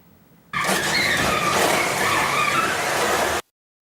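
A silver station wagon driven by a drunk driver crashes into scooters parked along a narrow lane, a loud sustained burst of grinding, scraping impact noise lasting about three seconds, then cutting off abruptly.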